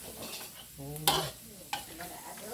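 Spicy fish being stir-fried in a pan, a soft sizzle under brief harmonic vocal sounds and a couple of sharp utensil scrapes against the pan.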